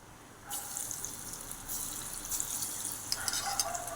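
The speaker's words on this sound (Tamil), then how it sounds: "அரைச்சதை இப்போ நான் எண்ணெயில் போடுறேங்க" Ground chana dal and red chilli paste hitting hot oil for pakoda, giving a steady hissing sizzle that starts abruptly about half a second in and continues with crackling bursts to the end; no voices.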